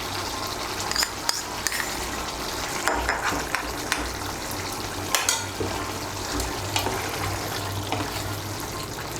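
Ghee stirred into a frying Bengali ridge gourd curry (kakroler torkari) gives a soft steady sizzle, with scattered clinks and scrapes of a spoon against the pan throughout.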